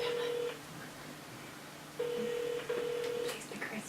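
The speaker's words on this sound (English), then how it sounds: "For anyone watching, it's just ringing." A telephone rings out during a live prank call: a steady electronic ring-back tone, with one burst trailing off at the start, a pause, then a close double burst, clear and moderately loud over faint background noise with no talking.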